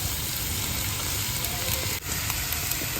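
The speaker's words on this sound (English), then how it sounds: "I will go ahead and add my rice." Leftover rice tumbles into a hot pan of frying garlic and onions for bacon-egg fried rice, giving a steady, close sizzle throughout with one brief dip in the middle.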